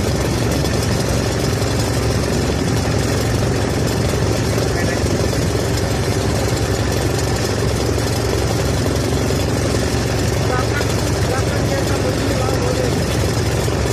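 A Singapore Airlines aircraft that caught fire after departing KLIA, its engine running with a loud, steady, unbroken roar that fills the whole stretch.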